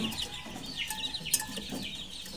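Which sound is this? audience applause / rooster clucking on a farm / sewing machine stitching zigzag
rooster clucking on a farm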